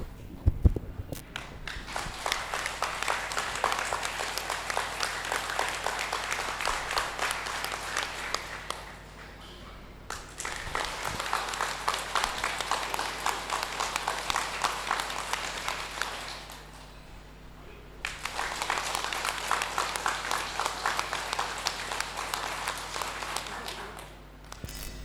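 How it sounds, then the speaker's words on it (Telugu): A large audience claps together in loud, sustained applause at a pyramid inauguration event, in three long bursts with brief quieter pauses between them. "ఒక్కసారి మాత్రం గ్రాండ్గా క్లాప్స్ కొడతాము, గట్టిగా నాతో పాటు క్లాప్స్ కొడతాము"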